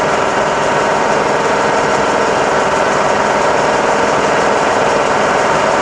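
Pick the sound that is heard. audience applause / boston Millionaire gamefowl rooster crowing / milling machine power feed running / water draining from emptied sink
milling machine power feed running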